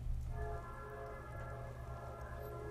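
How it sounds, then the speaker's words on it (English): Heavy rain effect from the visual novel Kira Kira, a steady dense wash of downpour with a low rumbling bed and a faint tonal music layer, constant and unbroken throughout. "It's raining heavily."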